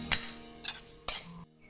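Scraping scoops of pounded young mango salad lifted from a stone mortar with a metal spoon, three short clinking scrapes spaced about half a second apart, close and fairly quiet, with no talking.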